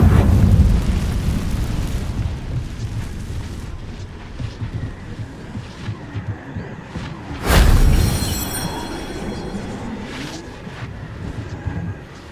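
The Incendio fire spell is cast in Hogwarts Legacy, producing a sharp whooshing burst of flame that swells loudly for about a second amid ongoing rumbling game ambience, with a rough roar beforehand.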